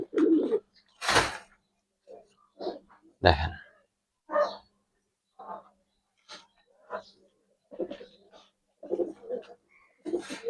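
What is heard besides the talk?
Giribaz high flyer pigeons cooing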